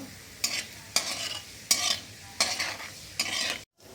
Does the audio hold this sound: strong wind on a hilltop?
no